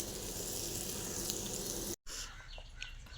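Bitter gourd (kakarakaya) frying in a pan gives a steady, close, broadband sizzle. It breaks off for a moment, then comes back softer and thinner with small scattered pops.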